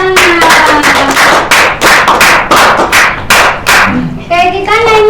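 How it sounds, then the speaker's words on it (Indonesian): Classroom applause during a primary-school teaching practice lesson, a burst of many hands clapping loudly and unevenly for several seconds, with children's voices calling out over it. "Oke, tepuk tangan."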